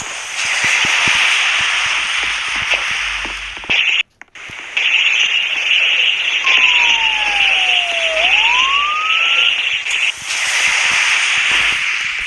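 A police car siren in a video game holds a loud steady wail that cuts out briefly, followed by a sweeping tone that drops and then climbs again over a constant electronic hum.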